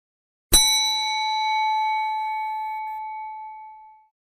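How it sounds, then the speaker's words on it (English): A single bright notification-style bell ding strikes once and rings out cleanly with a long, steady decay of about three and a half seconds, alone with no talk. "ring that bell on YouTube"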